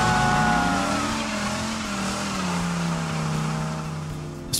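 A Ram SRT10 pickup with the 8.3-liter V10 Viper engine revs and pulls strongly, its deep engine note shifting pitch steadily, close and loud.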